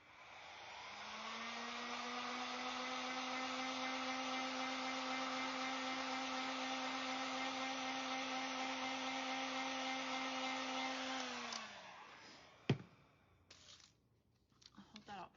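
A hair dryer drying a decoupaged ghost craft, a steady close whine held for about eleven seconds before winding down, followed by a sharp knock and a few faint handling sounds.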